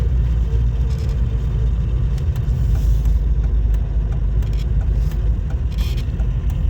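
A VAZ car engine converted to run on petrol and gas idles with a steady low rumble close by, running continuously without talk.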